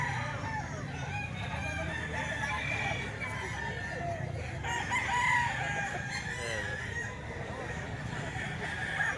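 A rooster crows at a cockfighting-stock market stall where a yellow-legged stag is offered for sale, the call rising over a busy crowd and steady background chatter for most of the stretch.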